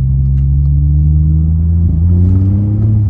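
A Seat Ibiza FR engine pulls away from a standstill, a deep, steady rumble that rises gradually in pitch as it accelerates, loud and close throughout with no talking.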